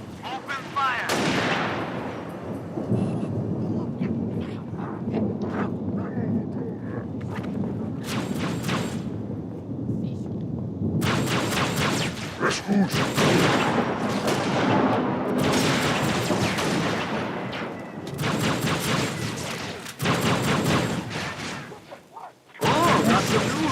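Halo: Reach gunfire, bursts of rapid shots and booming blasts coming in dense waves with short lulls, loud throughout, with voices talking between and under the shooting.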